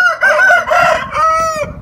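A loud, close Aseel rooster crows once, a long drawn-out cock-a-doodle-doo with a strained, falling end.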